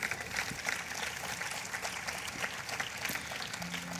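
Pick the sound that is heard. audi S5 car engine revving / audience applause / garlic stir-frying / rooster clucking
audience applause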